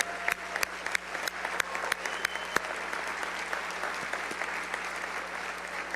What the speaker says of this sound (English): let's give a big round of applause to our high school assistant coaches of the year